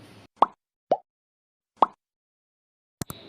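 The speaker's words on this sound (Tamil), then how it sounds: "இப்போ கடாயில் எண்ணெய் ஊற்றி எண்ணெய் காஞ்சதும் ஒன்று ஒன்றா நம்ம இதில் சேர்த்துடலாம்." Sweet potato vadas dropped one at a time into hot oil in a kadai, four short separate plops with quiet gaps between them, close and clear, followed by a brief sizzle.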